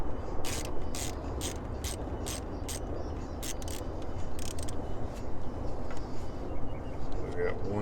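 A ratchet loosens 10mm bolts on a car, giving a run of quick clicking bursts over a steady low background, close by and fairly quiet.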